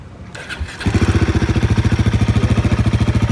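A Royal Enfield Guerrilla 450 motorcycle fitted with a changed exhaust cranks over, catches, and settles into a loud, close, evenly throbbing idle with rapid regular pulses.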